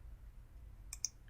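Two quick, faint clicks of a computer mouse in TIA Portal software, one right after the other against a low background hum.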